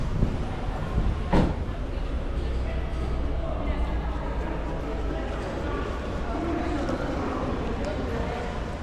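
A train rumbles at Tigre railway station in Argentina, a steady rail-yard drone with clanks and a sharp squeal early on, while people talk nearby.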